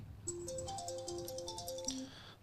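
A burner phone rings with a bright, repeating electronic melody of short tones, clear and moderately loud over a faint background hum, lasting about two seconds.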